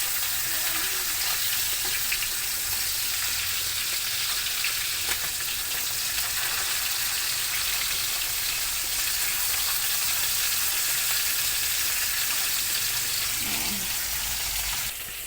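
Galunggong fish frying in hot oil in a home kitchen, a steady loud sizzle and crackle running evenly throughout with no talk over it.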